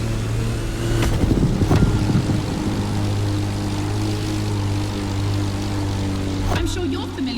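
Aerobatic propeller plane in The Crew Motorfest, tailing a Red Bull RB20 race car through tight turns: a steady, loud engine drone with a low harmonic hum, swelling briefly near the start and shifting pitch toward the end.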